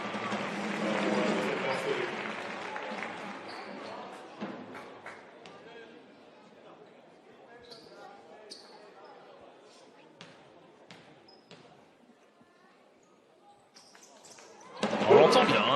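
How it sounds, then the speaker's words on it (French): A basketball bounces repeatedly on an arena floor as a player goes through a free-throw routine in a pro game at Monaco, sharp thumps ringing out under a broadcast commentator's voice and crowd noise, with a louder burst at the end. "On l'entend bien, hein, le rebond au moment de sa préparation de routine de lancer franc"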